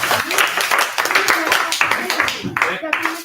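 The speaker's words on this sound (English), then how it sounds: "Let's give him a round of applause" Audience at a Maker Faire school event claps in a dense, steady round of applause lasting a few seconds, close and fairly loud, with no voices on top.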